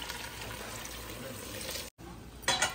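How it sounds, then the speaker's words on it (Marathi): Hot water is poured into sautéed basmati rice for chicken biryani, making a steady watery rush that briefly cuts out, then splashes louder near the end. "गरम पाणी ह्याच्यात टाकते।"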